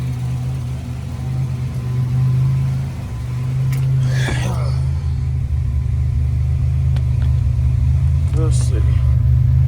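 A Buick Grand National idles while warming up, a steady low engine rumble close by with a slight swell partway through, and someone speaks briefly over it.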